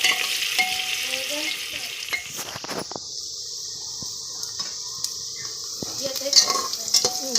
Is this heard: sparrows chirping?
no